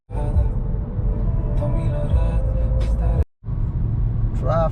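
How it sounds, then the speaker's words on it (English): Road traffic heard from inside a moving vehicle on a drive from Pennsylvania to Maryland, a steady low engine and tyre rumble with passing cars, briefly cut out near the end, with faint voices underneath. "Traffic, man."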